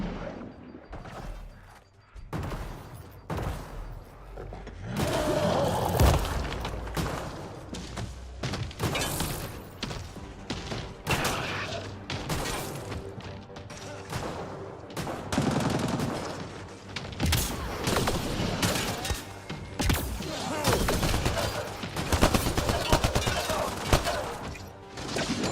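Rapid bursts of gunfire crack and rattle almost without pause in a Mass Effect Andromeda firefight, loud and dense, with heavy impacts and short gaps between volleys.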